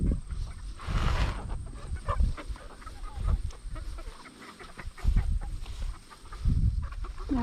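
Chickens in a chicken tractor on a farm, clucking and murmuring near and fairly loud, with intermittent bumps and rustling from handling around them.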